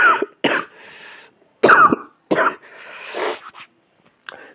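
A man coughs in several harsh, loud bursts, with short pauses and a brief throat-clearing between them, close to the microphone while teaching a Hindi class and feeling unwell.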